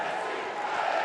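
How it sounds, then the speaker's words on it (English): Arena crowd at a women's handball match reacting with a sustained collective gasp and murmur as a shot flies over the goal, a dense steady roar of many voices throughout. "A bit of a gasp from the crowd there as they expected that one to crash into the back of the net"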